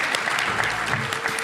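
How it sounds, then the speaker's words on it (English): A live event audience in Detroit applauds a guest coming on stage, a steady, dense burst of clapping from a crowd that fills the room, with a faint voice mixed in. "Please give a big round of applause to the Chief Human Resources Officer at Consumers Credit Union, Sean Premer."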